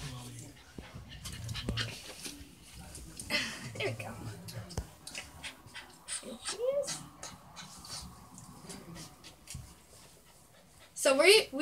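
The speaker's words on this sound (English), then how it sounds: "Today we are gonna meet Lexis the puppy" A puppy pants and whimpers close by, with soft breathy panting and a few high whines, under ongoing talk and handling noises.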